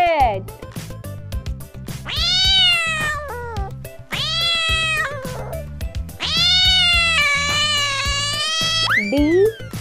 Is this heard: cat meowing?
yes